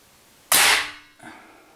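A single close, sharp shot from an AirForce Condor air rifle, .25 or .22 caliber: a loud crack with a quick decay, then a fainter metallic knock as the pellet hits the target a moment later.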